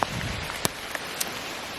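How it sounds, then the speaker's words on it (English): Heavy rain pours steadily outdoors at Knole Park, a dense wash of patter with sharper individual drops striking close by. "It's still absolutely raining like nothing else."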